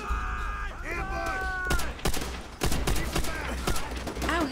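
Enemy gunfire in Call of Duty: World at War, with several sharp bursts of rifle and machine-gun shots cracking over game music and effects, loud and close.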